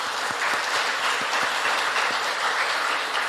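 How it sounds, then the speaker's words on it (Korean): A church congregation applauds during a Sunday worship service, a steady dense wash of clapping held at an even level throughout. "우리 격려의 박수 한번 했으면 좋겠습니다."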